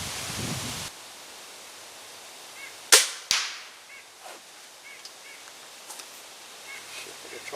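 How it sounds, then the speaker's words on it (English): Crossbow fired at a target 30 yards away during bow season prep, a sharp snap of release followed moments later by a second crack of impact, close and distinct over quiet outdoor background. "On tap for me now is to shoot the crossbow."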